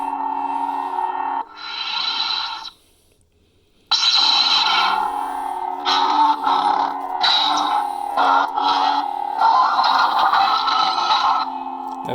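A toy lightsaber emits a dual phase effect, humming electronic tones that switch between two sounds with a short silent gap and then warbling, swooshing bursts, close and clear with no voices.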